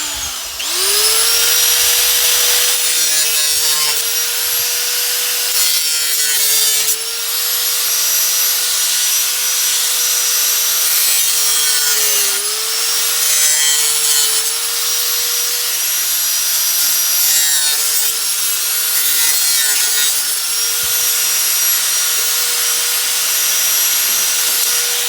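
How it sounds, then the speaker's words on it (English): An angle grinder cutting through a black plastic crate, a loud sustained whine with the blade's pitch dipping briefly each time it bites harder, plus occasional scraping, close up and without talk. "In this case, I'm going to use a grinder."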